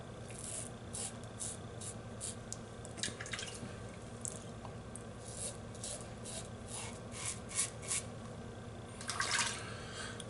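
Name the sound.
rinsing hands with water during a traditional shave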